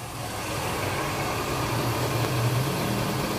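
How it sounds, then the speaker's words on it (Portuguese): A cold alcohol-fuelled Chevrolet Corsa Sedan Classic engine idles after starting, a steady low mechanical hum with a faint rising drone, heard close and alone. The car has a failing water pump and a worn clutch. "Eu vou ligar aqui o motor e mostrar para vocês."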